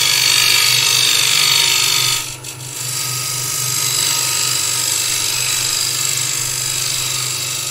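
A skew chisel cuts into wood spinning on a lathe, a steady loud scraping whir with a brief dip partway through as the tool eases off, then continuing evenly.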